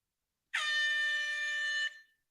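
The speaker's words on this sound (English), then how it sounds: "you find air horns annoying" A single loud air horn blast, steady and harmonic-rich, held for about a second and a half before cutting off.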